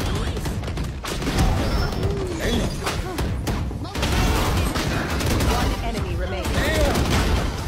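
Rapid gunfire from the Valorant video game, dense bursts of shots filling the whole stretch with thumps and crashes, loud and close, with faint voices underneath.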